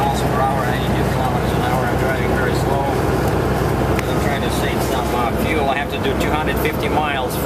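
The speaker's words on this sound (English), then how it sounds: "this is what the engine sounds like at 57 miles per hour, 92 kilometers an hour" A Caterpillar C15 diesel truck engine with a 5-inch straight pipe exhaust cruises at 57 mph, a loud, constant deep drone with road and cab noise and someone talking over it.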